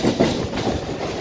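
A Mumbai local train running on the tracks near Masjid station, with a steady loud rumble and rhythmic clickety-clack of wheels on rail joints, close by and with no talk.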